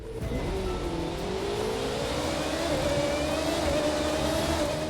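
Race car engine from the racing video game The Crew 2 holds a steady loud high-revving whine with rising pitch, continuous and alone throughout.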